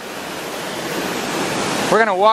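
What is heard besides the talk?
large waterfall, Tunnel Falls on Eagle Creek, Oregon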